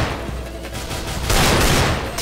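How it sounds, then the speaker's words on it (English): Rapid bursts of teammate gunfire in the CS:GO video game, a close, loud rattle of shots that grows denser and louder halfway through, heard alone without talk. "He's shooting you."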